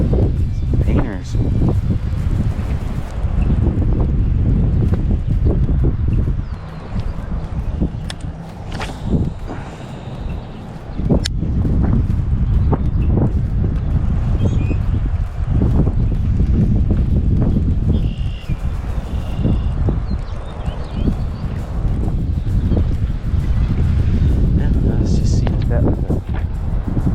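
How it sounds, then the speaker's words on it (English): Strong wind gusts buffet the microphone outdoors beside a creek during bass fishing, a loud continuous low rumble that rises and falls, with talking heard over it. "the wind's really starting to pick up."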